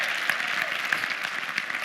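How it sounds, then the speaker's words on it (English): An audience at an email marketing event applauds in a brief, steady burst of dense clapping, moderately loud and close, with no talk over it. "Give yourselves a round of applause for being here today"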